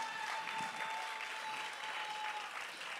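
A church congregation applauds to acclaim the Lord, with steady, dense clapping from many hands that fills the room without pause.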